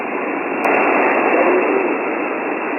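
A weak ham radio signal sits buried in steady band-limited static hiss, a continuous rushing noise floor heard on an Icom IC-9700 or IC-7610 transceiver, with a slight jump in level partway through.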